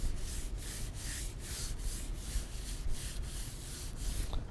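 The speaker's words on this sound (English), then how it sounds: "you can definitely hear the contamination on this paintwork" A hand rubs back and forth over car paintwork rough with contamination, giving a raspy, gritty swishing in a steady rhythm of repeated strokes, close and fairly quiet, with no talking.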